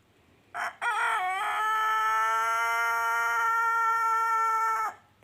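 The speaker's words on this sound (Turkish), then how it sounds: "Şunun güzel ötüşüne bak. Hadi bir daha öt bakalım." A single long rooster crow, loud and close, with a short note first and then one sustained cry lasting several seconds.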